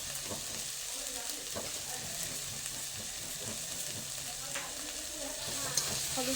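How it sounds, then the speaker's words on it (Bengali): A turmeric-coated mixture sizzles steadily in a frying pan while being stirred, producing a continuous soft hiss with faint scraping, close and fairly quiet. "হলুদ গুঁড়োটাকে মিশিয়ে নিলাম।"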